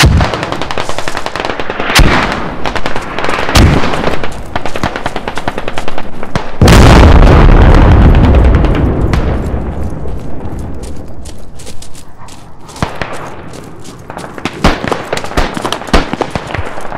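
Mortar rounds firing and exploding in the Squad war video game, a loud barrage of booms and rapid gunfire bursts with one heavy sustained blast midway, continuing in scattered volleys.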